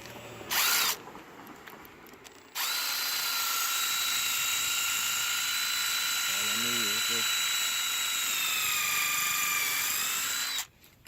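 A power drill bores a pilot hole into new porch wood during a repair, starting after a brief sound and whining steadily and loudly for about eight seconds, with a short rattling stutter partway through, before stopping.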